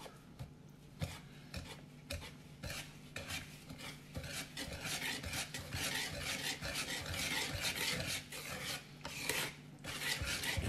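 Cornbread batter is stirred in a bowl with repeated rhythmic scraping and rasping strokes, close and continuous, growing denser and busier as the mixing goes on, with no speech.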